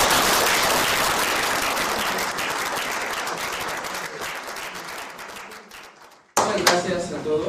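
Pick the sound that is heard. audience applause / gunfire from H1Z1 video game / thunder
audience applause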